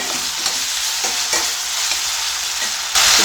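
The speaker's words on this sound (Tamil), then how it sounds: "இது கூட தக்காளி பழத்தை போட்டு நல்லா வதக்கிக்கலாம்." Tomatoes sauté in a pan with green chillies, ginger and curry leaves for bread upma, giving a close, continuous sizzle with stirring scrapes that grows louder near the end.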